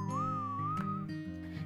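A pressure cooker whistles while cooking eggplant for bharta in a home kitchen, a steady wavering tone that holds loud and continuous with a faint tinkling alongside.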